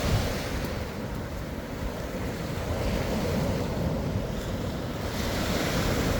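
Ocean surf rolling onto the shore at Panama City Beach, a steady broad wash of breaking waves mixed with gusty wind buffeting the microphone throughout.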